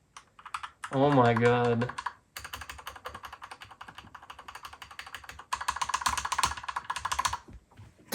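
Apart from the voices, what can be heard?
typing on a Royal Kludge RK98 mechanical keyboard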